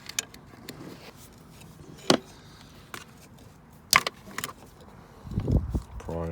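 A screwdriver pries the gear linkage cable ball sockets off on a 2013 Ford Focus MK3 1.6 TDCi, giving two sharp close snaps a couple of seconds apart among faint workshop clatter, followed by someone speaking.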